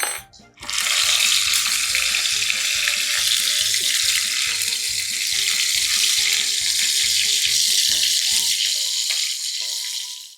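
Loud, steady hissing sizzle of marinated fish frying in hot oil, continuous and close, with faint clinks and low rumbling beneath.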